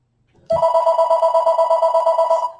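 Home landline telephone ringing loudly and up close, a rapid electronic warble with an even pulse that starts abruptly after near-silence and holds steady for about two seconds.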